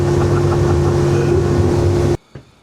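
A small fishing boat's engine running at sea off North Wales, a loud, close, steady droning hum with wind rush, cutting off abruptly near the end.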